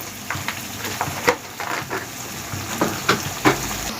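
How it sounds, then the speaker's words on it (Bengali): Spices sizzling in hot oil for a jackfruit curry, a steady crackling fry with several sharper pops and spoon scrapes, close and fairly loud, with no talking. "গন্ধটা যতক্ষণ না যাবে ততক্ষণ এটা তেলে ভালোভাবে কষিয়ে নিতে হবে"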